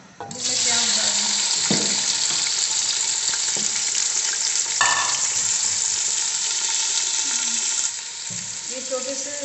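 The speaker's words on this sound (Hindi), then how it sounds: "तेल गर्म होने के लिए अभी मैं प्याज डाल दूँ" Sliced onions hit hot oil in a pan on a stove as Aloo Mutton curry begins cooking, giving a steady loud sizzle and hiss that runs nearly unbroken, with a few clinks and stirring sounds, dropping slightly near the end.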